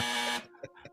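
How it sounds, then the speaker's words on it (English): A loud, harsh electronic buzzer blares steadily for about half a second and then cuts off, followed by faint low voices murmuring in the background. "Jose, hit that buzzer."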